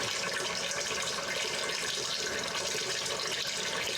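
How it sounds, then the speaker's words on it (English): Cool water poured over rye grain mash in a home whiskey-making setup, a steady, close rushing splash of running water lasting throughout with no talk. "I can put some cool water on top of the grains, give them a little stir, and flush out until I collect about 6 gallons"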